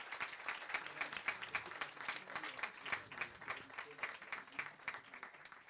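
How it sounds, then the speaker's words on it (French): Closing round of applause from an audience at an evening business talk, a dense patter of many hands clapping, moderately distant and fairly quiet, continuing steadily without speech. "Je pense qu'on peut leur faire un dernier tour d'applaudissements"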